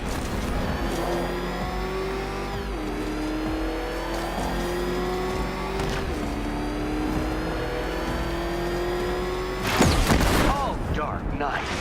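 A car engine in the video game Arkham Knight revs hard and continuously, its pitch climbing and dropping through repeated gear shifts, loud and close, ending in a burst of crashing impact noise.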